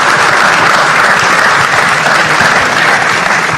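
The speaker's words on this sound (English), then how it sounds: "give them a round of applause, please" Sustained, loud audience applause fills the room at a housing expo and conference, steady dense clapping from a large crowd with no pauses throughout.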